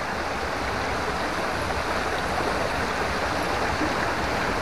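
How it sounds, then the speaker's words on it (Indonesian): Tibusampi waterfall in Bali pours in a steady, dense roar of rushing water, close and continuous throughout with no voices over it. "Bisa teman-teman lihat di sebelah kiri Vanessa air terjunnya ya."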